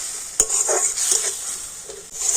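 Ground coriander and cumin frying in a pan, a bright steady sizzle broken by several scraping stirs and light clinks of a spoon against metal, close up with no voices.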